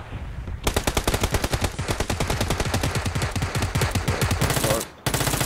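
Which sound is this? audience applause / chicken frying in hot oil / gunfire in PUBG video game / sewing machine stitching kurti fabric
gunfire in PUBG video game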